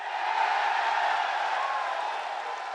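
A loud crowd at a UFC press conference in Sydney roars in a steady, sustained wall of cheering and noise that fills the room, dense and continuous without letup.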